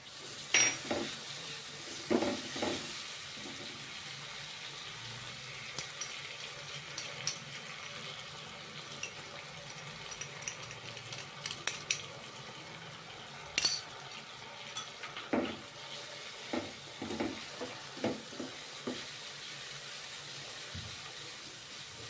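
Garlic chutney added to a pan of pea and potato curry fries with a steady low sizzle while a spoon scrapes and stirs, giving scattered clinks and knocks; no one speaks.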